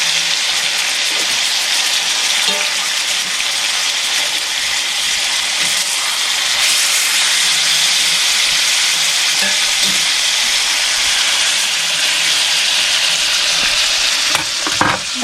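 Marinated steaks sear in a pan with butter and garlic, a loud, continuous, close sizzle and hiss with occasional stirring or spooning scrapes and no voices.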